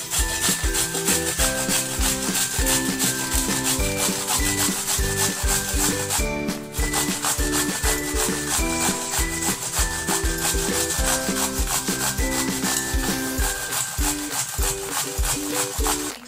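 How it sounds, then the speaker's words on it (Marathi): A cucumber is grated by hand on a metal grater for cucumber paratha, giving a continuous rhythmic rasping scrape, close and loud, with one short pause partway through and no talk. "आपल्याला सर्वप्रथम काकडी किसून घ्यायची आहे"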